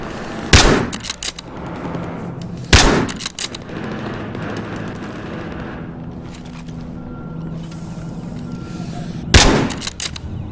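Gunfire in the video game Battlefield Hardline: three sharp, loud shots spaced a couple of seconds apart, each with a short echoing tail over rumbling game background.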